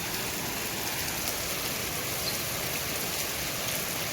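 Heavy rain pours steadily outdoors at a village home, a dense, even hiss of water hitting surfaces that continues without a break and with no voices.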